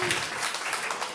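Brief burst of congregation applause inside a church, dense clapping from a crowd lasting about a second.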